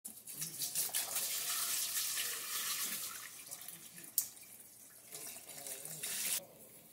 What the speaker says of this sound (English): I am going to put some water in this to get this thing covered.